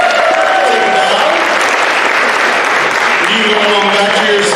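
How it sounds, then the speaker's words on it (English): A loud, dense round of applause from a show audience, many hands clapping continuously and evenly with some crowd noise and brief voices woven through. "Let's give my 2 helpers a big round of applause."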